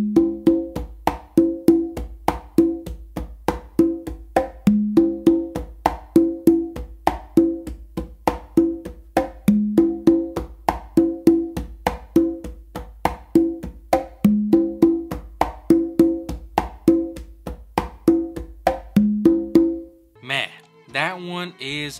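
Conga drums play a cha cha cha variation with many melodic tones on one drum, steady repeating pattern of close, crisp slaps and open tones for about twenty seconds, ending with a short burst of other sound.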